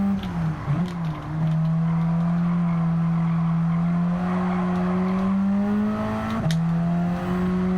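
A tuned Alfa Romeo 4C drives on a small track, its engine a loud, steady droning whine. The pitch dips briefly near the start, then holds through a long pull, shifting again near the end. No one speaks.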